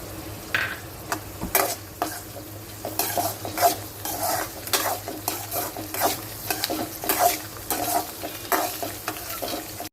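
Cabbage and capsicum, along with onion, stir-fried in a pan for Schezwan fried rice, giving a loud, continuous sizzle with constant brisk stirring, scraping and clatter of the utensil against the pan.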